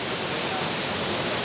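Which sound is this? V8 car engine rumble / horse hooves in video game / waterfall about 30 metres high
waterfall about 30 metres high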